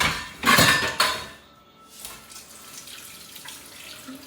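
Dishes washed by hand under a running kitchen tap: a couple of sharp clinks of utensils and bursts of splashing water, then a steady softer flow continuing close by, with no talk.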